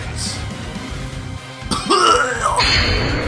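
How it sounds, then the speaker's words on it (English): A few harsh, throaty coughs and rasping throat sounds, close and strained, followed by a short rising vocal groan. "begins to cough up blood as the last of his life force fades away"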